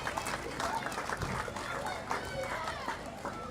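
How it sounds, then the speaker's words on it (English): Crowd at a junior quarter midget state title event clapping for driver Lacey Mills, scattered outdoor applause with an announcer speaking over it. "put your hands together for Lacey Mills"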